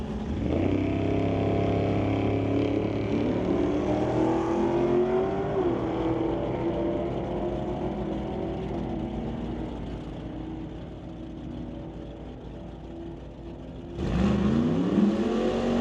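Two cars drag racing, a Chevy II and a Mustang Fox Body, with loud engines roaring and rising in pitch as they pull away. The sound fades with distance, then a fresh roar surges back near the end.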